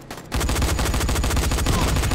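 Sustained rapid gunfire in the zombie survival game Dying Light kicks in after a short quiet start and continues as a loud, steady automatic stream to the end.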